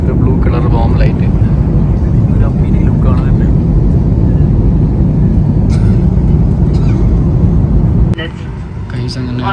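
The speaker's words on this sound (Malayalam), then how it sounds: "ഫ്ലൈറ്റ് പുഷ് ബാക്ക് ചെയ്ത് ഇറങ്ങിയിട്ടുണ്ട് കണ്ടോ" An Akasa Air jet pushing back at the airport produces a loud, steady engine drone heard from inside the cabin, which drops slightly near the end, with a person speaking over it.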